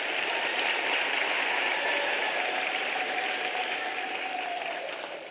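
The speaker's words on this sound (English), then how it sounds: "Let's give them a round of applause" Audience applause at a University of South Africa autumn graduation ceremony: a dense, sustained clapping that fills the hall for about five seconds and eases slightly toward the end.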